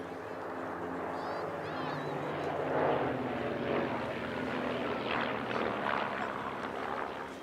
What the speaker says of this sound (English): The difficulty of rolling a large formation of RV8s cannot be underestimated.